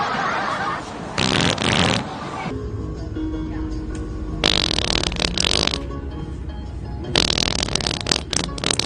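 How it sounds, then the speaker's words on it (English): Cartoonish fart sounds come from a grandpa fart game, with several loud bursts of varying length mixed with game noise and people talking and laughing. "Right now, let's check out Pop's fart game right here on the Vibe."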